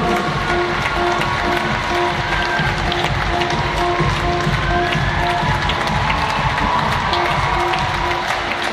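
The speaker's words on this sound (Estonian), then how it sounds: "teeme suure aplausi nendele kolmele noorele naisele, kes selle vaatamängurile kohtu panid" An outdoor crowd applauding after a horse show performance, sustained dense clapping and cheering at a steady level throughout, fairly distant and unbroken.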